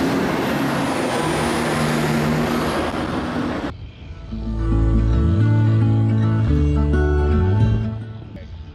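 A 100-ton haul truck works at a reservoir dam construction site, its heavy diesel engine rumbling with a steady broadband roar, then shifting into deep, changing engine tones as it revs and labours, loud and close.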